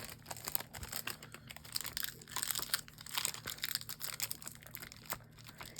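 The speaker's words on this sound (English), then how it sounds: "Let me see if I can clean this with my tape here." Sticky tape pressed onto and peeled from a resin mould, a near, continuous run of crackling, crinkling and tearing noises with small bursts, no voices.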